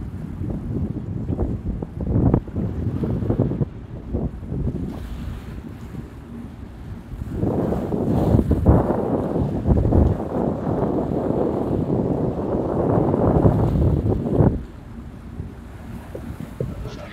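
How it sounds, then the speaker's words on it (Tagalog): Strong wind buffets the microphone at the seaside, a steady roar that swells louder midway, with waves faintly beneath and no voices; cold, very windy weather. "Ang lamig, ang lakas ng hangin."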